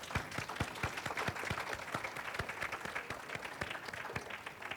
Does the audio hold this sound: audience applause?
yes